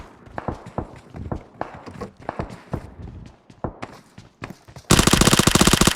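Footsteps crunch in a steady running rhythm inside a PUBG match at Pochinki, close and fairly loud, before a sudden dense burst of rapid gunfire takes over at the end.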